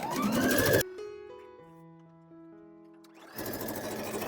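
A sewing machine stitches the shoulder seams of a kurti in two loud close bursts, separated by a quieter stretch of low humming tones as the machine pauses.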